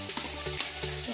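Onions frying with turmeric in a pan for a banana flower dish give a steady, close sizzle that runs unbroken, with a few soft clinks of stirring and no voices.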